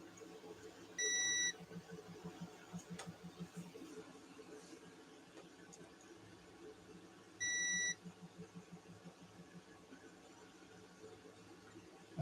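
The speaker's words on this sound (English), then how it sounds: "It beeped twice." Continuity tester on an electronics bench gives two separate short steady beeps several seconds apart, clear and fairly loud over a quiet room with faint murmuring between them.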